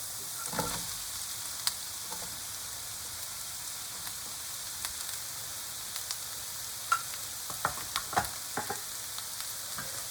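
Shallots and mushrooms sizzle in fat in a frying pan for an asparagus omelette, a steady close hiss with scattered spatters and occasional scraping stir sounds, no talk.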